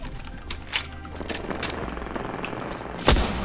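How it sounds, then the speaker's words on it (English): Rapid gunfire from a shooter video game, Apex Legends, bursts of shots crackling in quick succession with a louder hit near the end, fairly close and dense, no talk over it. "Oh, I'm getting shot at."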